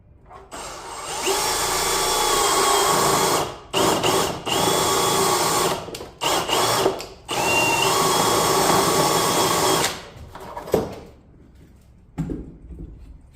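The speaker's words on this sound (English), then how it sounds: "I use this Klein step bit, which gives you 1/2 inch, 3/4, or 1 inch knockouts." A Klein step bit in a power drill bores a 1/2-inch knockout in a mini split rough-in box, grinding loudly and steadily in several long bursts separated by short pauses, then trailing off into quieter handling noises.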